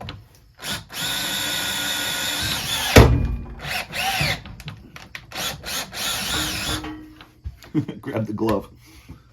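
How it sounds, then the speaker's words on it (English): A power drill bores the old threads out of an aluminum mounting piece on an old motorcycle, a steady loud whine for about three seconds, then a heavy thunk and more intermittent, stuttering bursts of drilling with clatter between them. "I'm going to drill those threads out of there"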